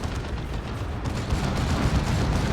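A big zap gun fires in a Dawn of War 2 battle, a heavy, booming energy blast over dense, continuous battlefield rumble and crackle, loud and sustained throughout.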